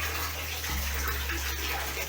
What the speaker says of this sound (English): It's not a hot water, but it's coming from the geyser.